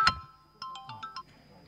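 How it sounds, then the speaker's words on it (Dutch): A mobile phone ringtone at a business award ceremony plays a short series of bright electronic chimes, fairly quiet and close, after a single sharper tone at the start. "ik moet even de telefoon opnemen"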